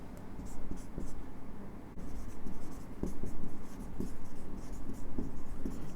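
A pen writes a line on paper in short, close scratching strokes with rhythmic taps, under someone speaking Hindi.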